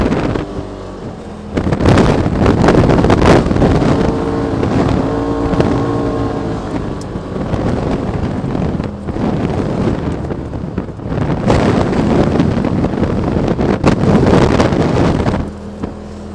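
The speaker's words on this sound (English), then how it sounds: "Windy." Strong wind roars and buffets the microphone, loud and continuous with gusts swelling and easing, and no voices.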